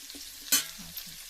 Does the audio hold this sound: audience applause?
no